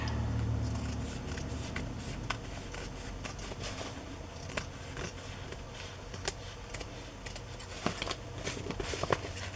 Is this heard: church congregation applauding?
no